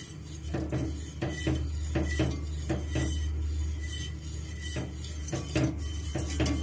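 Bongko cake batter stirred in a pan over a medium-low flame, the utensil scraping and clinking against the metal in a steady, repeated rhythm, close and fairly loud with no talking.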